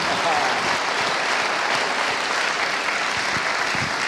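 Sustained, loud audience applause at a French business innovation awards ceremony in the Sarthe, honouring a company founder on stage, a dense even roar of many hands throughout with a faint voice underneath.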